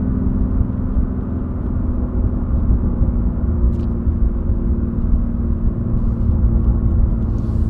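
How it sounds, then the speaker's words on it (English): A BMW M2 Competition driven through curves, its engine and exhaust making a steady, loud, deep droning rumble from inside the cabin, with no distinct pops standing out. "as you're taking your foot off the gas, you're getting little burbles and stuff from the exhaust"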